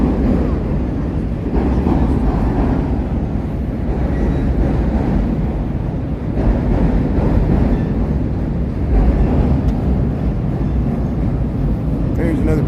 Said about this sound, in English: It's pretty noisy with the train going above.